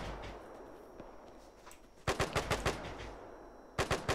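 Machine gun bursts in a World War II video game: a rapid volley of about six loud shots, a pause, then a shorter burst of three, over faint background noise.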